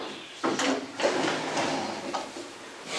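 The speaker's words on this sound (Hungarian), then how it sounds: "Tegye csak be a fiókba." A drawer slides open or shut during an amateur stage play, a few close scraping and rumbling pushes with short pauses between them and no talking.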